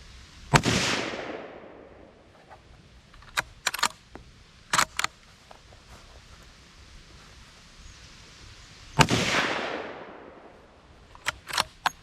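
Two loud, sharp rifle shots from a Ruger American in 350 Legend fitted with a muzzle brake, each cracking close with a long decaying echo, several seconds apart, with faint clicks and handling noises in between.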